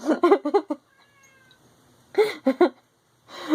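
A cat meows several times close by, in short bursts with a pause between them, then one more meow begins at the end; a faint high whine sits in the quiet gap.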